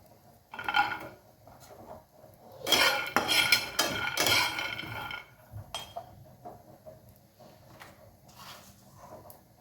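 Peanuts and garlic roast in a pan on a gas stove, with clinking metal spoon and pan knocks coming in bursts, the loudest cluster in the middle, then lighter scattered taps.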